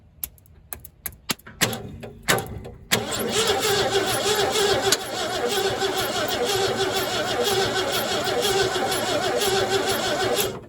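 A 1968 Ford F100 engine cranked over by its starter, jumped straight from the battery through the solenoid: a few short clicks and bursts at first, then steady, loud, rhythmic cranking that continues without firing.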